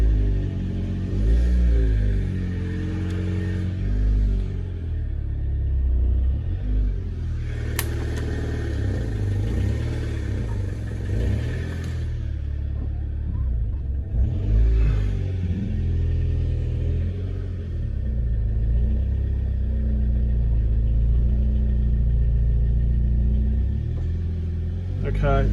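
A Honda Civic VTi EG DOHC VTEC engine rumbles and idles close by in a shed, rising and falling slightly, while people talk over it at times.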